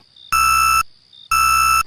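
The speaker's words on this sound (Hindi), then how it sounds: "जोर जोर से अलार्म बजने लगता है।" A cartoon alarm blares loudly in two long, steady electronic beeps separated by a short pause.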